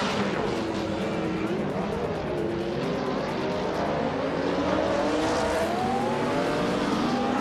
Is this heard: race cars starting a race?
yes